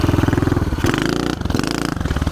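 Pit bike engine revs in pulsing bursts on a wet surface during a wheelie, a loud, close, rapid buzzing with quick throttle blips across a couple of seconds.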